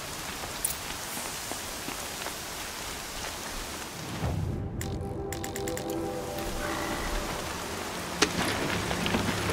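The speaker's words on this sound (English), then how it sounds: "Here comes the rain." Steady rain falls in the video game Horizon Zero Dawn, a soft continuous hiss that thickens midway, with a rumble of thunder and some game tones over it.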